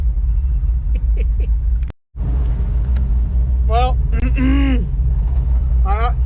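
Used and abused farm truck idling in a long hot line of cars at a speedway, its rich idle circuit giving a steady low engine rumble throughout, with brief speech and other sounds over it.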